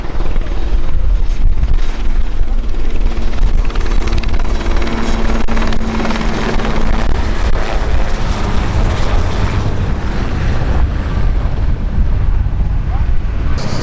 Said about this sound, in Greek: έχουν έρθει 2 ελικόπτερα και 2 αεροπλάνα